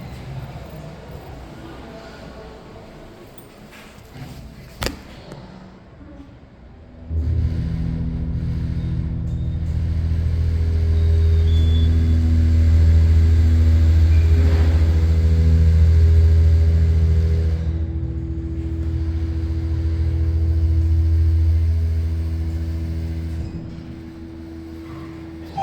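A large glass passenger elevator's hoist motor, one of a pair on a shared controller at a Tampa, Florida shopping plaza, starts after a quiet stretch and runs as a steady, loud low hum for about twenty seconds.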